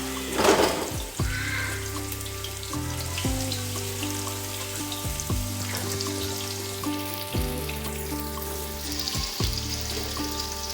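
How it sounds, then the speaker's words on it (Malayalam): Chopped onions sizzling in hot oil in a pan, a loud, steady crackling fry that runs throughout, with occasional clinks and stirring over a constant hum. "പാത്രം ചൂടായിട്ടാകുമ്പോൾ ഇതിൽ എണ്ണ ഒഴിക്കാം. ഉള്ളി ഇട്ട് കൊടുക്കാം."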